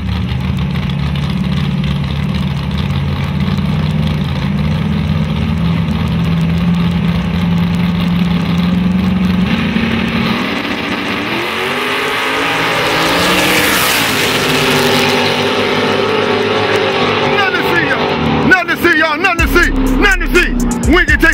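Race cars, a Mustang among them, roar past loudly during a race, engines droning and then surging with a rising sweep as they accelerate, with a crowd and an announcer talking over the noise.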